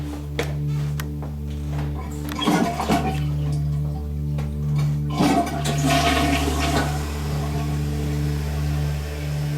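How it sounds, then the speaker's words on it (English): A toilet flushes in the historic Tinker Swiss Cottage house in Illinois: a loud, close rush of water swelling and gurgling over a steady low mechanical hum. "It sounded like a toilet flush, didn't it?"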